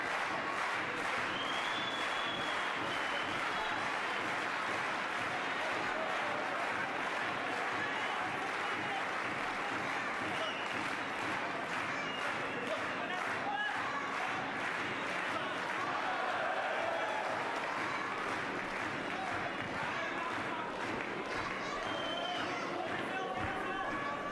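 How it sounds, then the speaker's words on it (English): Boxing crowd during a Markus Beyer fight, a sustained wash of cheering and applause filling a large hall, steady and fairly distant throughout. "the crowd now very happy about Beyer's performance here."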